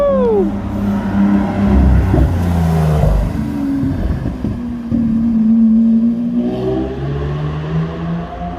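A Lamborghini SVJ supercar with its exhaust valves closed revs hard and loud nearby, its engine pitch repeatedly climbing and falling in a sustained roar over several seconds.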